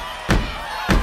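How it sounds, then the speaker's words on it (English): Two heavy, broad thumps about half a second apart, like children stomping their feet together at a kids' camp, with a low steady room murmur between the impacts. "You guys stomp your feet like that?"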